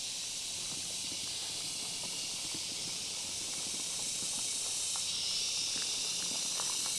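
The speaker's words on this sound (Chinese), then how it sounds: "丛林当中知了的声音很好听" Cicadas buzz in a dense, continuous high-pitched drone from overgrown bushes around an abandoned rural courtyard house, steady and loud with faint rustling beneath.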